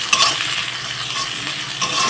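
Onions and garlic paste fry in a hot pan, a steady close hiss of sizzling with scraping stirs breaking through now and then, no voices over it.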